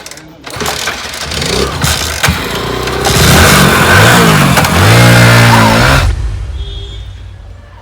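A motorbike engine revs up with rising, strained pitch over several seconds and then cuts off abruptly, loud and close, with some voices in the background.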